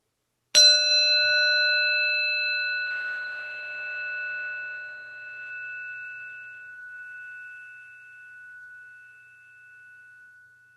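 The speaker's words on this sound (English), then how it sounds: "So just sound the bell as we end the practice." A meditation bell struck once at the close of a body scan practice, a clear bright ring that hangs on and slowly fades over about ten seconds in otherwise quiet surroundings.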